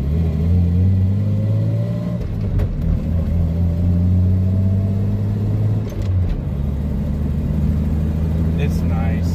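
A Jeep Comanche pickup with new shocks and leaf springs drives along, its engine humming loudly and steadily in the cab, with gear changes and a rise in revs, while someone talks over it.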